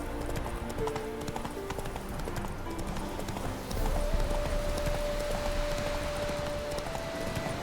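Roach, the horse in The Witcher 3, gallops with fast, steady clip-clop hoofbeats up close, over a bed of game ambience and a sustained musical tone.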